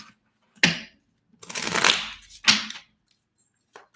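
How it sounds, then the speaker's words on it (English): Tarot cards being shuffled by hand: three sharp riffling bursts, close and crisp, separated by short silences, with a faint tap at the end. "All right, Libra, one more shuffle."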